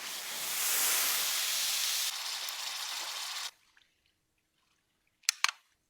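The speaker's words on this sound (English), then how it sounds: "so I decided to freeze it with some liquid nitrogen" Liquid nitrogen poured over peanut butter gives a loud, steady, close hiss lasting a few seconds. The hiss cuts off abruptly into silence, then two brief sharp clicks follow.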